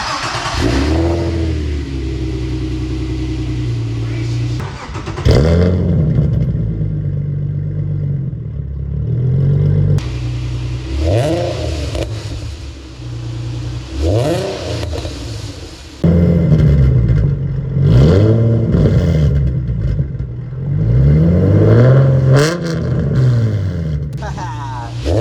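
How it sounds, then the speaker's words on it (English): A warmed-up drift car engine, in a shop with E46, E34, G35 and IS300 drift builds, idles loudly and revs repeatedly in rising and falling sweeps, close by and dominating throughout. "She's warmed up so we can rev her a little bit."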